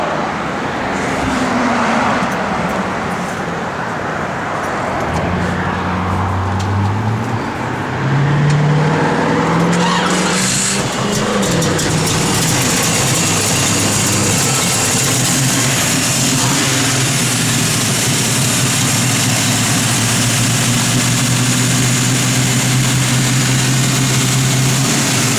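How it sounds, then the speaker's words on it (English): A 1972 Chevrolet Nova with a Hurst shifter cranks, catches and settles into a loud, steady, rumbling idle that carries on for over ten seconds, with no talking. "Go ahead and fire it up, Jordan."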